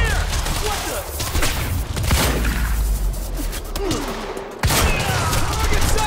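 Sustained suppressing gunfire from automatic weapons in the video game Quantum Break, rapid overlapping shots and booms from nearby, with a voice shouting briefly in the mix.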